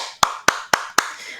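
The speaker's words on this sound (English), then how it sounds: "Clap for yourself." Four sharp hand claps sound at an even, steady pace, each crisp and close, with a short decaying tail between them and no talk over them.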